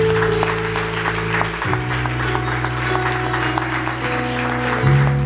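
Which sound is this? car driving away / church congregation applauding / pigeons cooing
church congregation applauding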